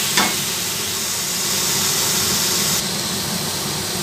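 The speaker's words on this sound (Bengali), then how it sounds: "ধনে জিরে হয়ে গেল, এটা একটু কষতে থাকবো" Coriander and cumin masala frying in a pan for restaurant-style mutton curry, a steady close hiss and sizzle with a brief stirring scrape near the start.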